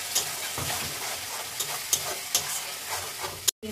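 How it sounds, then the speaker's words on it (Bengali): Tomato purée going into mutton curry frying in a pan: a steady, loud, close sizzle with rhythmic stirring scrapes and a brief cut near the end. "এবার দিয়ে নেব টমেটো পিউরি"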